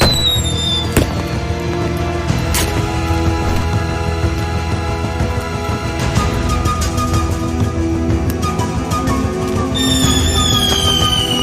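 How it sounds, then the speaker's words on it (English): Fireworks explode in an animated cartoon during a night rescue near City Hall and a radio tower, sharp bangs and crackles bursting repeatedly over a loud, dense score of music and effects. "He must think the fireworks are meteors, like the ones that destroyed his home."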